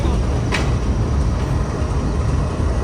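The Pakistan Express passenger train, which runs between Rawalpindi and Karachi, pulls into a station with a loud, continuous rumble of rolling wagons and a brief high squeal near the start.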